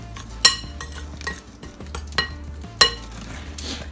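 A spoon stirs keto meat pie filling in a pan, with several sharp metallic clinks against the pan over a soft, faint background sizzle, close and with no talking.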